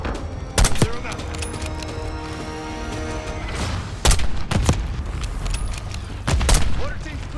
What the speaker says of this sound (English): Got mortar fire.